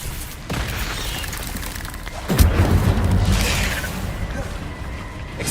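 Incendio fire spell cast in Hogwarts Legacy, a sudden whooshing burst with a low boom that swells and lingers over several seconds amid game ambience.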